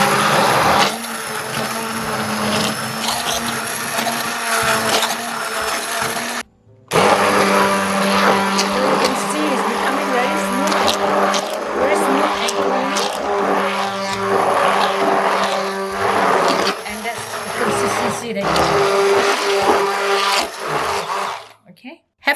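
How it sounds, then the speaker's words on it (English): A Bamix hand blender whirs loudly and steadily as it blitzes yam into a smooth paste, with a brief pause around six seconds before the motor resumes, continuing for about twenty seconds. "We blitz it with the bar mix to get it into a smooth paste."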